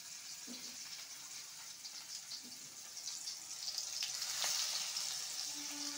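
Cornflake-coated chicken fries in oil in a kadai, a steady, soft sizzling hiss with faint crackles and a slight swell toward the end, with no voices.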